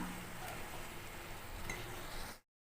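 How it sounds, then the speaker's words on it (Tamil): Cauliflower sautéing in a pan, giving a steady, fairly quiet sizzle and hiss with faint clinks, which cuts off abruptly near the end. "காலிஃப்ளவரை சேர்த்துக்கலாம் சேர்த்து நல்லா வதக்கிக்கலாம்"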